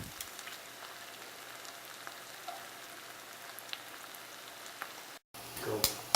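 Tempeh sticks fry in a pan with a soft, steady sizzle and crackle, faint and close, with occasional small pops and a brief cut near the end.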